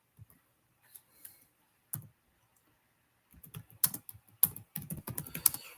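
Keyboard typing in bursts while entering a Windows Server 2000 setup in Oracle VirtualBox: a few sparse, quiet clicks, then a denser run of fairly close, crisp keystrokes in the final seconds, with no talking.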